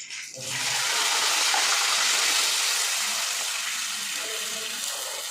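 Water poured into a hot cumin and mustard seed tempering for dal dhokli, a loud rushing hiss and sizzle that swells quickly and then settles into a steady bubbling roar.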